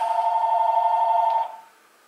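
A telephone rings with a steady electronic trill for about a second and a half, then cuts off into near silence.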